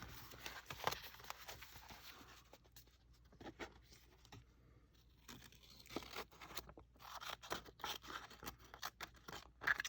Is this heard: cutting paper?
yes